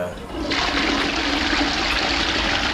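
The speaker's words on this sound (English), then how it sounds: "And this toilet right here, I love this toilet" A toilet flushing in the video game Evil Dead: Hail to the King, a loud rushing gush of water that starts abruptly and holds steady.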